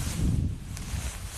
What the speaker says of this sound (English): Sorry about the wind, it's a little bit windy today.